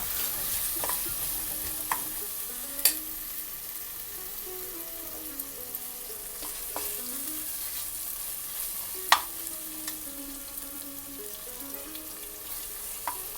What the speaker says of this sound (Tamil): நான் இங்கே வந்து ஒரு 4 to 5 பீசஸ் பச்சை மிளகாய் ஆட் பண்ணியிருக்கேன்.